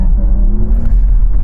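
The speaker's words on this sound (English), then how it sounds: "makes these spaceship sounds when you accelerate" Porsche Taycan GTS Sport Turismo in Sport Plus mode accelerating, its synthetic spaceship-like drive sound a loud low hum with rising tonal whine layered over deep road rumble, close and steady for a moment.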